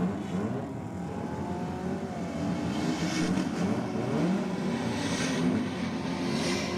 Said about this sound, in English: Oh, good side-by-side race here.